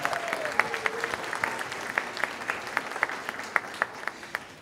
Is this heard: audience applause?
yes